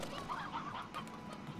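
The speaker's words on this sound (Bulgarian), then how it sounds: "Тук тия кокошки, тук са си." Game chickens cluck in a farm ranch setting in Slime Rancher, a run of soft, steady clucks close by with a faint ambient hum underneath and no speech.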